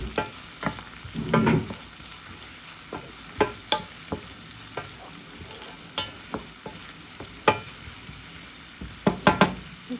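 Onions fry with tomato paste in a pan, with a steady sizzle broken by frequent sharp scrapes and knocks of stirring, close and clear with no voices.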